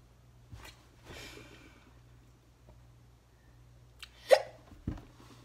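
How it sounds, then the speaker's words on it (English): A person's hiccups come as a few short, quiet, sharp jolts, one early and two close together near the end, set against a faint low hum in an indoor room. "I have the hiccups"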